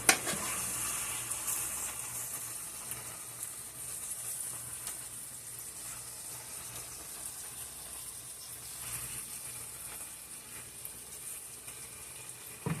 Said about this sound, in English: I want to just turn this beef.